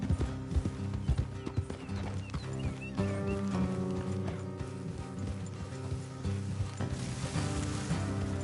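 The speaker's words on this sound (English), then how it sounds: "Let's leave the horses here and go the rest on foot." In Red Dead Redemption 2, horses' hooves clip-clop at a steady walking rhythm along a road, mixed under game music and ambience.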